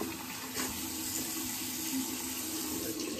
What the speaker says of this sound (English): That was warm water.